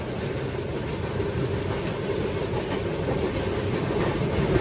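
The Grand Trunk Express rolls along the rails at slowed speed, a steady loud rumble with faint rhythmic clatter heard from inside the carriage, continuous and without talk.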